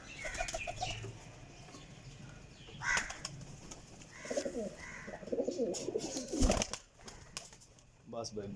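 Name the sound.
pigeons cooing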